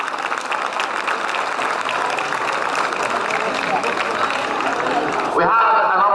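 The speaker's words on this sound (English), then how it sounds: "Please give them another huge round of applause." A large outdoor crowd gives sustained, loud applause for young dancers at a marches evening dancing display, steady throughout before cutting off near the end.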